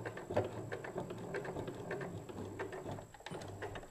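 A sewing machine reverse stitches at the end of a seam on a small wrist pin cushion, giving a fast steady mechanical whirring and clatter, close and quiet with no talking.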